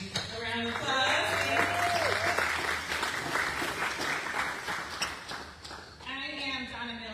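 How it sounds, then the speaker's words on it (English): A crowd at a Lansing political press event claps in a sustained burst of applause, preceded and followed by a speaker's voice. "Let's give you a round of applause."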